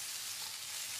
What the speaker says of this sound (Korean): 고기 굽는 냄새 같은데